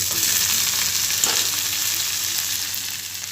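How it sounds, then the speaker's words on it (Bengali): Drumstick leaves (sajne shak) hit hot oil and fry with a loud, steady sizzling hiss that holds through the whole stretch, close by, with no talk. "শাকটাকে ঢেলে দেবো"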